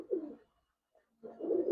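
Two soft, close coos from Giribaz pigeons, young red-eyed males, separated by a short pause, each a low throaty murmur rising and fading.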